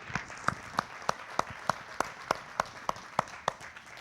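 A church congregation claps in a slow, regular beat, a dozen or so distinct claps evenly spaced over a soft background, with no speech over them.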